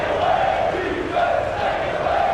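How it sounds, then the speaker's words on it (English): A Temple crowd chanting in rhythmic unison at a basketball video game, a loud, steady wall of voices with repeated rising phrases and no clear words. "Hearing some chants from the Temple crowd."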